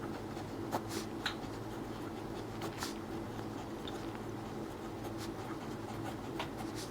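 A pen writes a math solution by hand on paper, giving faint, close, soft scratching strokes in a steady sequence.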